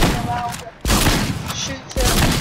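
Gunfire from a video game warmup map, with several sharp loud shots at regular intervals, each opening a broad burst of sound that fades and rings out under a steady bed of game noise.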